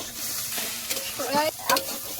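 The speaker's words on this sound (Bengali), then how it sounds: "দুই রকমের শাক একসাথে ভাজা হবে আজকে" Red amaranth and other leafy greens stir-frying in a pan, a steady close sizzle broken by a few scraping stirs of the spatula, with no talk.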